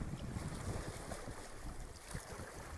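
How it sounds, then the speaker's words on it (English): Water lapping near a dock at the Sea of Galilee shore by the ancient boat center, a steady broadband wash with low rumbling surges and wind buffeting the microphone, continuous and fairly faint with no voices. "In case you hear the water sound."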